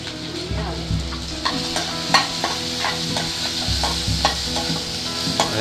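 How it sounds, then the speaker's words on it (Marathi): Garlic and ginger roast in a hot pan, giving a steady sizzle with repeated scraping and stirring clatter from a spatula. A few sharper knocks break through now and then, and no one speaks. "आणि ते परत भाजून घ्यायचे"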